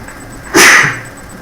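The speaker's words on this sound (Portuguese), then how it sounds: "estou com vontade de espirrar" A single sharp sneeze from a man with a dusty, irritated nose bursts out abruptly and loud, close up, over a faint steady background hiss.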